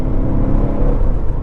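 A Ferrari drives past, giving a short, steady, loud rumble and whir of its engine, with no voices over it.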